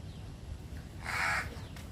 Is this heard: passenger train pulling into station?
no